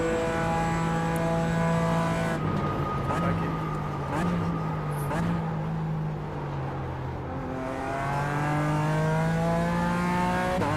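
Race car engine from a sim racing game revving up and down through gear changes, a buzzy whine dropping at each shift before climbing again, played under occasional talk.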